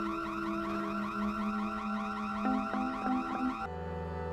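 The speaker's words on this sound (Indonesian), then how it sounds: "Pria itu kesakitan mendengar karena bisingnya suara alarm." A loud electronic alarm blares in a thriller film, a continuous warbling wail with repeating rising sweeps and steady tones lasting several seconds before it stops abruptly.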